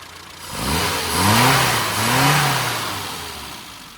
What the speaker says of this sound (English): So this is an auto engine.